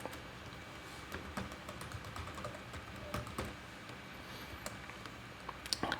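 Steady typing on a computer keyboard while an SQL insert query is written, with irregular clicks and occasional louder key taps running continuously at close range.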